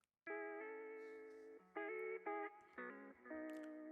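A guitar played through a plugin preset effect rings out in sustained, heavily processed chords and notes with a bright, synthetic, wobbly tone, changing pitch every half second or so, clear and alone.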